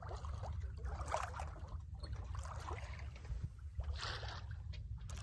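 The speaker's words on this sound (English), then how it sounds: "The boat is just boating along" Water laps and swishes gently against a boat hull as it moves along, with a low steady drone underneath.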